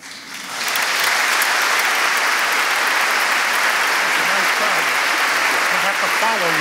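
A large audience at the 2018 Answer the Call Gala breaks into loud, sustained applause, a dense wash of clapping that rises quickly at the start and stays full and even to the end.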